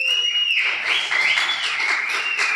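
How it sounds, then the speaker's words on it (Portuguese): A podcast studio audience applauds a guest, with a shrill whistle rising over steady, close clapping that continues the whole time. "Uma salva de palmas com muita energia para ele"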